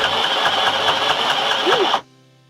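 A sewing machine stitches a personalized sublimation pillow, running as a loud, steady mechanical whir with a rapid rhythmic chatter for about two seconds before stopping abruptly, leaving a faint hum.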